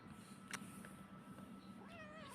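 A house cat meows softly nearby, a short cry followed by a longer wavering caterwaul near the end, faint over a low steady room hum.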